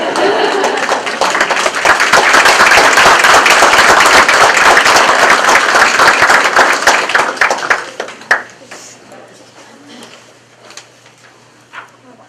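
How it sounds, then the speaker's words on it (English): A group of girls at a meeting clap together in a dense, loud burst of applause lasting several seconds, then the clapping thins out into a few scattered claps and quiet voices. "we're going to clap again."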